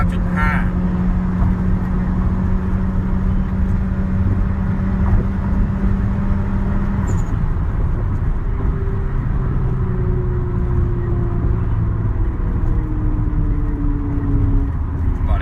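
A Honda City RS with a Hondata tune, AZC exhaust and 18-inch wheels drives in everyday stop-and-go traffic, its engine a steady loud drone with shifting tones as it accelerates, beneath ongoing talk.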